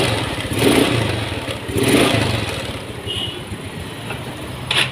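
A Yamaha Mio scooter with a running fault idles and is revved, the small engine rising in a couple of short throttle blips over a rough, clattering idle.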